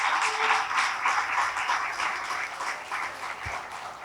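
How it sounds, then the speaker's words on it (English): Applause from the audience at a G20 Young Entrepreneurs' Alliance summit dialogue session, a steady, moderately loud wash of clapping that gradually fades over a few seconds. "I think this calls for a round of applause."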